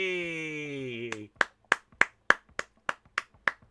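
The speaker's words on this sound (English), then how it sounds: "Even the referee's applauding" A referee clapping in Football Manager 26 after an AS Roma Coppa Italia win, a run of about eight evenly spaced crisp claps following a sustained tone.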